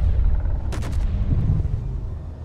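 A turret in the Space Engineers video game lets off a quick burst of four or five sharp shots over a steady low engine rumble, with a fainter thud following a moment later.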